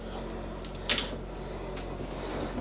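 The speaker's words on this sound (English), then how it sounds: "So that's a nice little pocket door" A small interior pocket door slides in a 2026 Astoria Half Ton 260RK travel trailer, giving one brief, fairly close rolling swish against a steady background hum.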